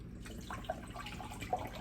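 Bottled water poured into a cooking pot for elderberry syrup, a quiet, steady liquid trickle with a couple of small splashy accents.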